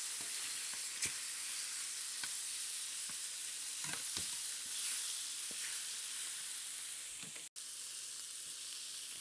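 Pork tenderloin browning in a hot pan gives a steady, close sizzle with scattered small pops and crackles, no talking.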